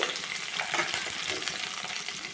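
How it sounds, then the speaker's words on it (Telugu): Onions, green chilies, ginger and tomato fry for semiya upma, a steady close sizzle with faint stirring scrapes running through the whole stretch, no voices. "అండ్ టమోటా వీటన్నిటి కూడా వేయించుకున్నాం మగ్గేదాకా వేయించుకున్నాం"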